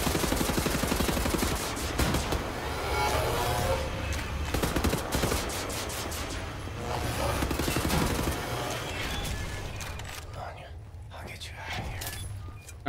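Gunfire in Wolfenstein: The New Order, with rapid bursts of shots and sharp impacts over the first half that thin out later, mixed with someone talking and game noise.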